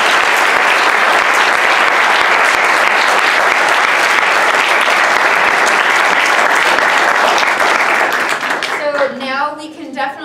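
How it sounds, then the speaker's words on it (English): A large audience at an academic panel event on Armenian studies applauds the panelists in loud, sustained clapping that fades near the end as voices begin talking. "Let's give them a round of applause."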